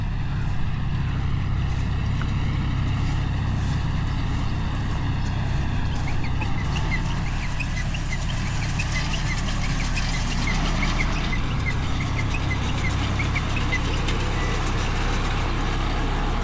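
Rice straw baling machine working a harvested paddy field, rolling loose straw into bundles: a steady, loud low mechanical drone and engine rumble with a continuous rattling whir that runs without pause, no voices.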